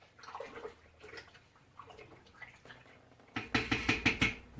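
Yeast being stirred into liquid for a pear brandy mash gives soft sloshing swirls, then a rapid series of sharp clinks and knocks near the end, all quiet and close with no talking.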